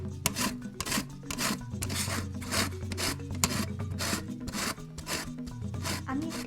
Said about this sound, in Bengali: কমলালেবুর খোসা আমরা একটুখানি গ্রেটারে গ্রেট করে নেব।